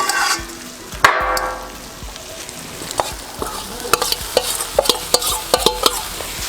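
Radish leaves being stirred into mooli sabzi frying in a pan, with repeated scraping and stirring knocks over a steady soft sizzle, close and fairly clear with no talking.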